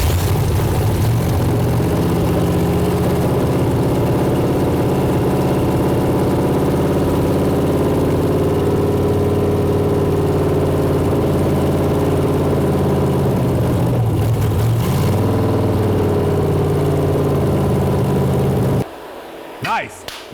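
A junkyard GM V8, a 6.0 or 5.3, running on a test stand, a loud steady rumbling idle with slight pitch wavers, briefly swelling in revs near the end before stopping.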